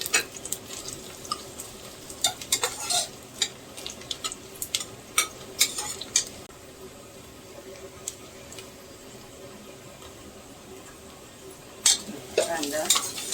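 Onions browning in a pan with garam masala and bay leaf for a prawn pulao are stirred in bursts, with soft scraping, utensil clinks against the pot and a faint sizzle, then a quieter stretch before stirring resumes.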